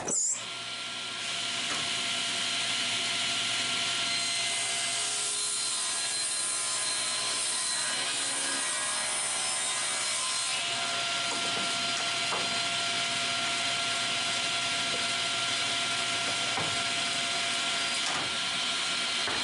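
A power saw cuts a wood piece held against the fence while building a small fold-over-lid chest, producing a loud, steady whine that runs continuously after a sharp start.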